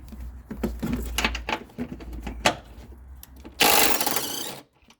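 Someone works on the 14 mm strut tower nuts of a 2012 Acura MDX with a tool, making irregular close clicks and clunks, then a brief loud burst of a powered tool before it stops.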